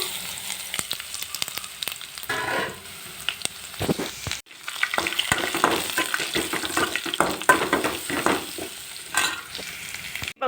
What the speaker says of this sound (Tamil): மிளகு சீரகம் வரமிளகா பூண்டு தட்டி வச்ச பூண்டை போட்டு தாளிச்சிக்கணும்